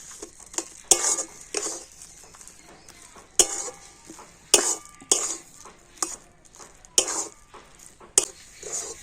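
Potatoes with spices stirred in a pan, a string of crisp metal spatula scrapes and clinks, roughly a dozen strokes at an uneven rhythm over a faint background sizzle.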